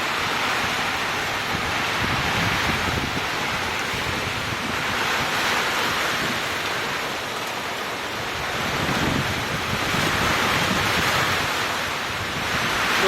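A heavy morning downpour drums on a tin roof, accompanied by wind; the sound is a loud, continuous broadband roar that swells and eases in slow waves.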